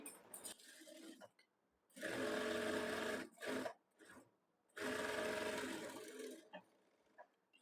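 A sewing machine stitches a princess cut blouse in several bursts: two long steady runs and a few short ones, each separated by pauses of near silence.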